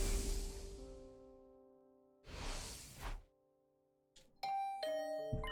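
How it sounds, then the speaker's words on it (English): A doorbell chime rings inside a video game, clear tonal notes sounding alone in a quiet room, followed by swishing whooshes and another bright run of chime tones near the end. "Was that my doorbell?"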